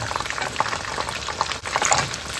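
Pieces of chicken fry in hot oil for Thai fried chicken, a dense bubbling hiss with small pops throughout, steady and fairly close, with no talking.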